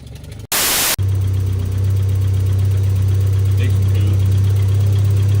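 Car engine idling steadily with a leaking exhaust centre box, a deep constant drone and rough puffing after a brief loud burst at the start.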